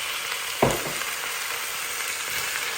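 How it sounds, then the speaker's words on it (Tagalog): Mushrooms and boiled jackfruit are stirred in a pan, with one soft knock early on and then a continuous even sizzle, close and without speech. "Tapos haluin."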